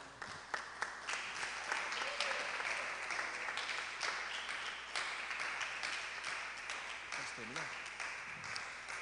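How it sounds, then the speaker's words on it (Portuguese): A congregation applauds in a church service, with a thick wash of clapping that rises and stays level, while a few voices call out faintly. "Então aplauda o Senhor."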